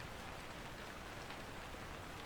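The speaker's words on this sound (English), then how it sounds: "The rain hit the window harder now, steady, aggressive, rhythmic, like a warning." Steady, even rain pattering hard against a window, a continuous hiss with no breaks or voices.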